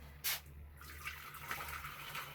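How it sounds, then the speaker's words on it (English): Hot water poured into a pan, a quiet, steady watery gush lasting a couple of seconds with a brief louder splash near the start. "Right, I'm putting hot water in the pan."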